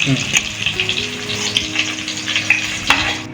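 Cauliflower pieces fry in hot oil, giving a constant close sizzle with small spattering pops, while a hum runs underneath.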